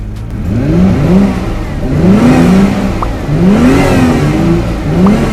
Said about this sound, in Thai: อันนี้ก็เสียงดังนิดนึง เดี๋ยวผมเบิ้ลให้ดู